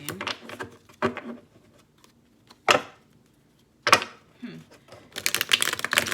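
A deck of tarot cards being shuffled in bursts of crisp, rapid riffling and slapping, with quiet gaps between them and a denser flurry of shuffling at the end.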